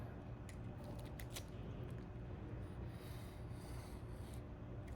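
Prepreg carbon fabric being cut, a faint close scraping and rasping with a few brief snips, continuous and quiet with no talking.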